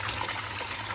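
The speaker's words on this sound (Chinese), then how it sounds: "现在是第3次倒水了，来放盆。" Cold water gushes from a washing machine's drain into a basin during a deep-cleaning cycle, a loud close steady rush with no talking.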